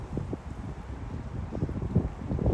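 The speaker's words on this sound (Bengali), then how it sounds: "সুন্দর বাতাস পানিতে প্রচুর ঢেউ" Steady wind blowing over choppy water with many small waves around a boat on a summer outing at St Vital Park, a continuous rumbling wash with buffeting gusts and lapping, no voices.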